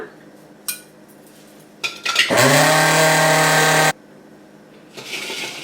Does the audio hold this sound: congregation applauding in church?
no